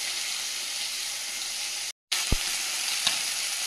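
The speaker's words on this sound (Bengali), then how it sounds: "এই ফ্যাঁসা মাছগুলো একটু কড়া করে ভাজবে না?" Phasa fish fry crisp in hot oil, a loud continuous sizzle that cuts out briefly near the middle, then resumes with a couple of sharp knocks; no voices.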